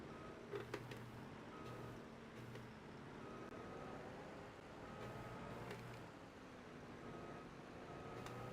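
A farm vehicle in Farming Simulator 25 backs into a shed, its reversing alarm sounding as evenly spaced high beeps over a low engine drone that holds steady throughout.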